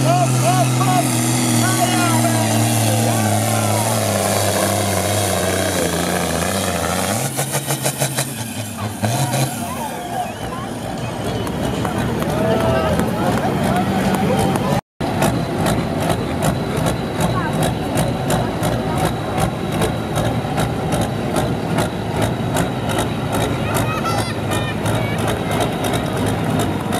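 A tractor engine roars at a 2014 tractor pulling competition in Zimmerwald, a loud, heavy rumble that surges, briefly drops, then keeps going, while an announcer talks over the noise.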